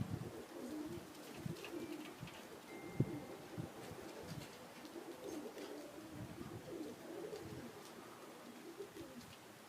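Modoc Zipper pigeons, bred in 2019, flying together in a kit while one unfamiliar outbird unsettles the group; steady low cooing and fluttering murmur fills the scene, with a few soft wing claps and no talk.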